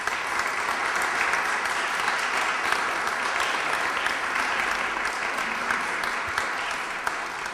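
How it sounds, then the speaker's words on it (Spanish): Sustained applause from an audience at a lecture, welcoming a speaker in Uruguay; dense, steady clapping that carries evenly throughout without voices. "pido por favor un fuerte aplauso"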